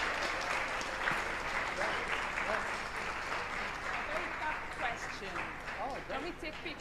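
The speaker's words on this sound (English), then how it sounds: "How about a round of applause for yourselves?" A group of students applauds together, a dense, steady wash of clapping that stays loud and even for several seconds without speech.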